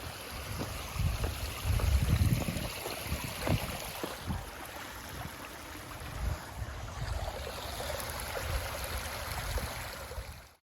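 Water burbles and splashes along a shallow creek at South Mountain Reservation, with a few louder sloshes early on, like footsteps through the stream, then a steady trickling flow.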